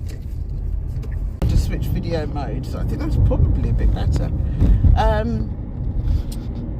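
Steady road rumble from inside a moving car on a sunny afternoon, with a person driving as passenger chats; low engine and tyre noise runs continuously beneath close conversation.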